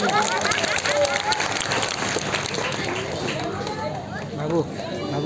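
A crowd at a Durga temple event claps for two priests, a sustained mass of applause with voices and chatter mixed in throughout.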